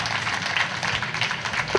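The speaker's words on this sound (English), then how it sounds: "Another applause." Applause breaks out in the Hayabusa2 mission control room during the touchdown operation, a steady wash of many hands clapping at moderate distance, continuing evenly for a couple of seconds.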